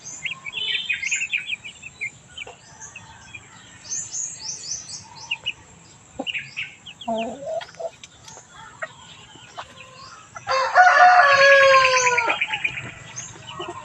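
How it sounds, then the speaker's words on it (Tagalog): Chickens and a rooster at a rural family home, with pigeons kept nearby, clucking and chirping in scattered bursts, then a louder crowing call near the end, fairly close with no talk. "Ang daming manok dyan, sa kulungan. May sisiw."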